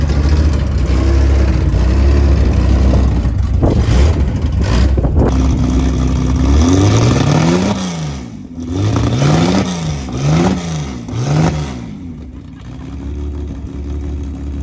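Loud engine of a second-hand luxury car with an old, rusty exhaust split down the middle, rumbling at idle and then revving repeatedly in rising and falling sweeps, close by with no talk.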